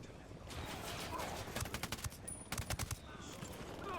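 Gunfire in the video game Ghost Recon Wildlands: several short bursts of automatic shots crackle in quick clusters over a constant background of game ambience, moderately loud without talk.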